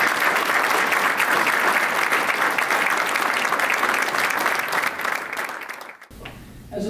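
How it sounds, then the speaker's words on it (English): Loud, steady applause from an audience at a University of Maine event honoring student athletes, dense clapping that continues for several seconds before dropping off abruptly near the end. "Let's give them a round of applause."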